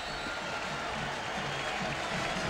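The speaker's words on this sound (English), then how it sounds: "big applause is for Edgerrin James." Distant stadium crowd applauding steadily at a 1998 UCLA at Miami college football game as running back Edgerrin James returns to the field, a broad continuous roar of clapping and noise without a break.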